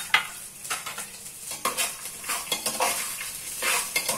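Okra fried rice with curry leaves being stirred in a hot pan gives irregular scraping and clattering strokes of a utensil over an ongoing sizzle, close and moderately loud, with no voices.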